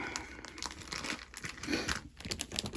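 Plastic packaging crinkles and rustles up close while haul items are handled and unboxed, a soft continuous crackling with occasional tearing sounds and no talking.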